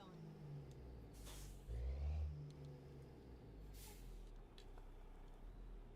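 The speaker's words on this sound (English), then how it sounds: "Thought I heard air brakes behind me." A fire truck's air brakes hiss twice from behind in American Truck Simulator, two short, sharp bursts of air rising over the steady low drone of a truck engine.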